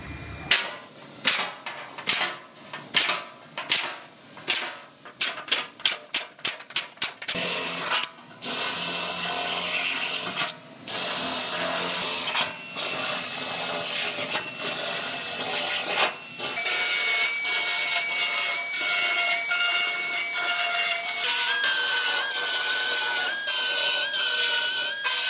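Holes being made in a new floor pan of a Toyota for plug welds, starting as a rapid series of sharp, loud bursts that give way to a long, continuous hissing, grinding tool noise with no talking.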